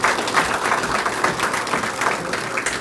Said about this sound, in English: maybe a round of applause here